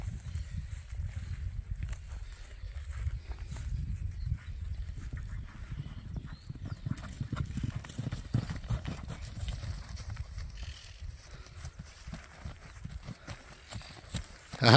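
Hooves of a pure criollo horse strike hard, firm ground in a steady walking clip-clop, moderately near and continuous, with no talk over them.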